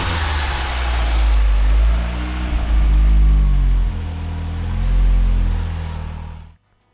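A tuned car engine running E85 fuel at maximum boost revs up and down in repeated surges, loud and close, then cuts off abruptly near the end.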